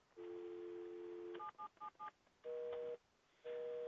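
A VoIP phone system plays telephone dialing tones: a long steady tone, a quick run of short keypad beeps, then two more sustained tone bursts separated by brief gaps, clear and close with no talking.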